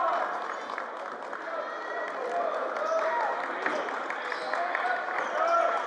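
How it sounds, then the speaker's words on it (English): A high school basketball crowd's murmur and cheering rises steadily in a gym, a dense, continuous wash of voices with scattered claps and shoe squeaks, all sounding somewhat distant. "The hype, the crowd finally getting into it some more since the slow start."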